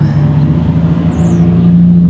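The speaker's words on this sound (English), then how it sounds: "Sounds like we got a car racing here." A car races past a front yard in a loud, steady engine roar with a droning low hum throughout, alone with no voices.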